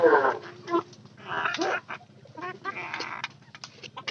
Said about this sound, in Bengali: এগুলো কিন্তু নতুন হালি মুরগি।